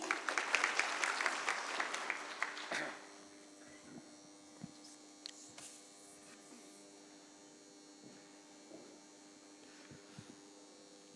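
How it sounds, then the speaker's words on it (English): Applause from a conference audience at a corporate bond market conclave runs for about three seconds and then stops abruptly, leaving a quiet room with a steady electrical hum and a few small knocks. "Round of applause, please."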